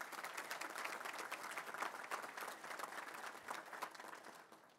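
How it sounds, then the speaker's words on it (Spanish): A crowd at a swearing-in ceremony for retired generals gives steady, continuous applause. Many hands clap at once, fairly faint and even throughout, with no voice over them. "pido un fuerte aplauso"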